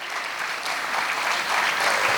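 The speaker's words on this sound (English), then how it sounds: "huge round of applause to our panelists" An audience gives panelists a big round of applause after a panel discussion, dense sustained clapping that swells slightly as it continues.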